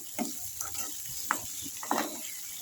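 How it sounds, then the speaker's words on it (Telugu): Onions and tomatoes frying in a pan for kurma, a soft steady sizzle with a few sharper stirring knocks and scrapes, fairly quiet and close. "సో ఇప్పుడు ఇది మనం బాగా ఫ్రై చేసుకోవాలి"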